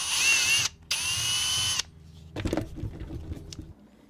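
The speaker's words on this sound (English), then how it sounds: "I'm going to drill a hole to make sure it fits." Power drill boring a hole through a plastic snuffer bottle in two short bursts of high whine, followed by scattered light clicks and handling taps.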